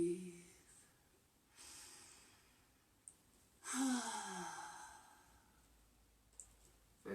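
A person takes slow yoga breaths: a soft exhale near the start, a louder, longer breath in the middle, then quiet room tone with a few small clicks.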